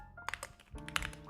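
Keys tapped on a computer keyboard in a short, uneven burst of clicks, close and fairly quiet, with no talking.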